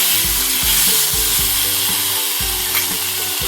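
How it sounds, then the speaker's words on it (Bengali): Vegetables stir-fried in a small amount of oil for a vegetarian sour curry, loud continuous sizzling with repeated rhythmic scrapes of the spatula against the pan. "এই সামান্য একটুখানি তেল দিয়ে আমি সবজিটাকে একটুখানি নেড়ে নিচ্ছি"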